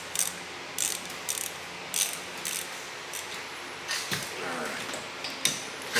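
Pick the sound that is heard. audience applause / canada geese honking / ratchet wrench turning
ratchet wrench turning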